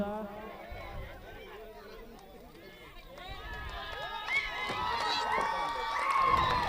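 A crowd at a local cricket tournament match cheers and shouts, the noise swelling from scattered voices into a louder, sustained roar of excited calls and whoops, with a commentator speaking over it.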